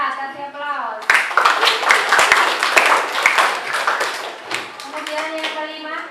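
Students in a classroom applaud after a group's presentation with a dense burst of close, sharp hand claps lasting a few seconds, and a voice talks before and after.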